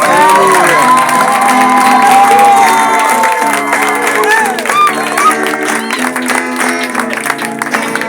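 A church revival congregation erupts in loud cries of joy, whoops and cheering with scattered clapping, a dense sustained crowd roar filling the room with some music-like tones underneath.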